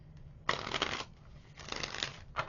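Tarot cards are riffled in short bursts, two longer shuffles followed by a brief third, close and distinct with no talking.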